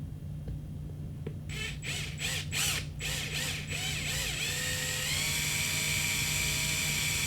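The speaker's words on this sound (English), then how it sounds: "all we need is a drill and a 1/4-inch drill bit" Power drill fitted with a 1/4-inch bit bores a hole through the center of a plastic end cap: a steady whine with several pulsing bursts, then a continuous drone, close and loud.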